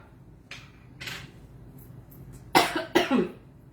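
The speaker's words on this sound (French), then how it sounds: "Ça m'a même fait tousser" A couple of faint breathy sounds, then two sharp, close coughs in quick succession near the end.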